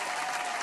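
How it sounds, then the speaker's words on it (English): A short burst of clapping applause from a small group during a drumming livestream, dense and steady with no voices over it. "let's give him some claps here."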